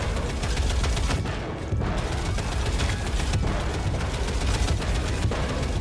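A helicopter's spooled-up gun fires continuously in an arcade video game, a dense, loud rattling barrage with booming impacts, briefly dipping once before resuming.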